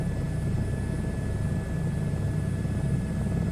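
Simulated Cessna 152 piston engine in Microsoft Flight Simulator 2024, a steady droning propeller hum with low rumble holding constant and loud throughout, no voices.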